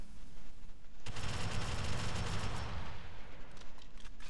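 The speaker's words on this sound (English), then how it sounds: "I'm gonna use the turret." A sentry turret in Alien Swarm opens up with a sustained, steady stream of rapid automatic fire, fairly loud and continuous after a quiet moment, with no one speaking over it.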